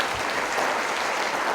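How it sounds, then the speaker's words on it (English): Sustained applause from an audience at a Duke Startup Challenge keynote, a dense, steady wash of many hands clapping at once, moderately loud and with no voices over it. "let's give one last big round of applause for Josh"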